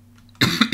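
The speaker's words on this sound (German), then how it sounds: "heute habe ich es aber auch wieder mit dem Husten" A single sharp cough bursts out after a moment of near silence, close and loud.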